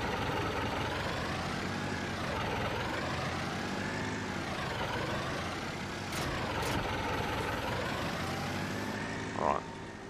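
A tractor engine in Farming Simulator 19 runs continuously with a droning, slightly wavering rumble, a brief hiss and clunk toward the end, while someone talks over it.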